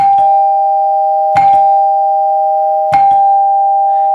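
NuTone LA43 Renaissance lighted door chime ringing loud and close, a sustained clear tone struck three times with a gentle mechanical click at each strike and a long ringing decay between.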